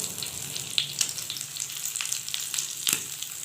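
Chicken tikka boti sticks sizzle steadily in a pan over a low flame, cooked without charcoal, with a few sharp clicks and scrapes as the pieces are turned; no one speaks.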